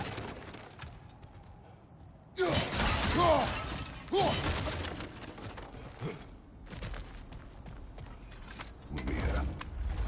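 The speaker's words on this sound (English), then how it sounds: "Back to smashing through things for fun and profit" Objects smashing in The Callisto Protocol, with two loud bursts of shattering and crunching debris separated by quieter stretches of mechanical creaks, followed by fainter impacts and a final rattle.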